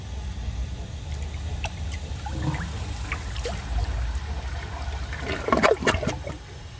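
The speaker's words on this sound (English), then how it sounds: "I bet it would have overflowed if I kept flushing it." A Kohler Highline Ingenium toilet, 2007 model, flushing with its flapper caught open, giving a continuous rushing, trickling water sound with a low rumble and a few brief gurgling surges near the end.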